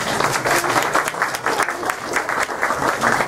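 An audience at a science café on the chemistry of an oil spill claps steadily and fairly loudly throughout, a dense even patter with no gaps.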